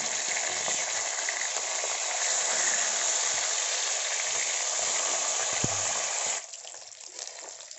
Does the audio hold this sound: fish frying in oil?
yes